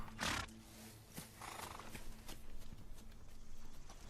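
A horse's hooves clop in a film scene, a handful of irregular, fairly close thuds spread over a few seconds above a low steady hum, with no talking.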